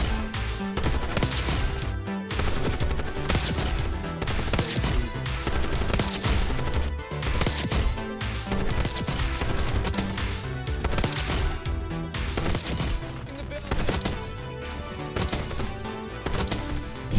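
Light machine gun fire in a Call of Duty game, heard as long, rapid bursts of shots repeating in a steady rhythm over a loud, busy background for the full stretch.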